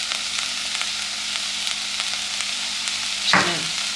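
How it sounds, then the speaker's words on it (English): Minced garlic and vegetables sizzle steadily in a single pot for Greek rice and cabbage, a close, even hiss with faint ticks, then a louder scrape of stirring near the end. "Just going to stir that in."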